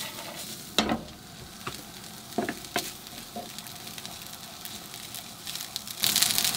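Day-old rice frying in a hot pan for egg fried rice, a steady low sizzle broken by a few sharp scraping and clattering stirs, with a brighter hiss rising near the end.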